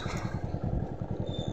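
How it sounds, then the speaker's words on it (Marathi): A tractor engine chugs steadily close by while driving along a stony village road, a low rhythmic pulsing throb throughout. "आणि ट्रॅक्टर आपला आहे."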